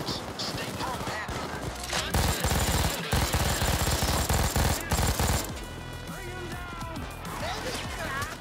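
Video game gunfire erupts during a mountain heist, sustained machine-gun volleys and clustered shots breaking off into quieter stretches, with people talking over the shooting.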